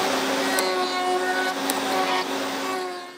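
A milling machine cuts the corners off a part, giving a steady loud whine with sustained tonal hum and a couple of sharp bright ticks, close by and running without pause.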